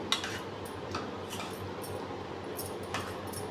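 Spoon stirring a tempering into bottle gourd yogurt chutney, giving light scattered clinks and scrapes against the bowl over a low steady background, with no talking.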